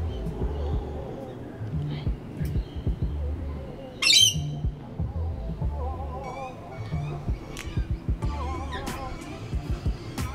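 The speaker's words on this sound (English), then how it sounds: "This kookaburra in particular was causing quite a bit of noise." A kookaburra and cockatoos squawking outdoors in the bush at Avoca, harsh repeated calls and chatter near and far, with a brief loud screech partway through.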